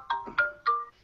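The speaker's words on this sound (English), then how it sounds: "That's my phone." A mobile phone ringtone plays three short, bright melodic notes at an even pace, each with a clear tonal ring. The notes are close and moderately loud, with no talking.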